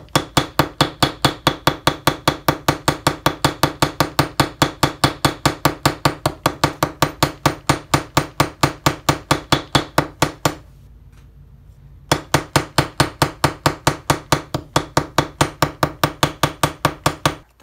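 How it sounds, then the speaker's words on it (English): Hammer striking an aluminum cuff bracelet blank to texture its surface, working from one end to the other: a rapid, steady run of loud, bright metallic blows, close up, with one short pause before the strikes resume. "I'm going to just start at one end and begin hammering until I get all the way to the other end"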